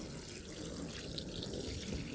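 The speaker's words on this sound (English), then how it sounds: "Okay, so I'm going to fill this up with water." A water tap runs steadily into a seed starting tray on a sunny day, a continuous broadband gush of filling water heard close and alone throughout.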